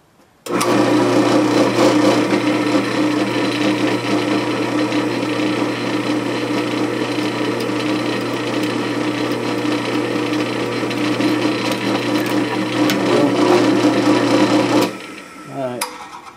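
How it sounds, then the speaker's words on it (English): A continuous whirring electric drill bores into metal on a homemade water-cooled Briggs engine, running steadily for about fifteen seconds, loud and close, then winds down to a stop. "when I stick my drill gun in there, the chuck won't be hitting anything"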